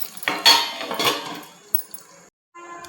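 Metal lid set onto a pan of rava sheera (semolina sweet), with clinking cutlery and cookware knocks close by, a couple of sharp clinks early on, then quieter handling before a brief silence.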